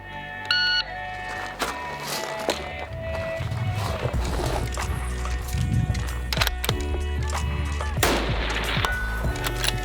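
Sharp gunshots fired in quick succession at a shooting competition course of fire, loud and close, with a timer beep at the start and people talking in between.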